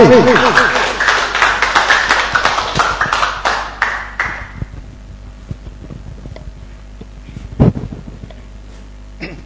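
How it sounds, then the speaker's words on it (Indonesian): An audience claps for Pak Ali at a distributor club meeting, brisk applause for about four seconds that fades into quiet, with a few scattered sounds afterward. "Tepuk tangan untuk Pak Ali."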